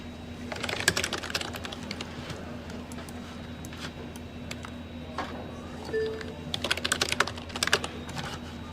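Steady typing on a computer keyboard, close and fairly quiet, with rapid clustered keystrokes and short pauses between bursts, heard on its own.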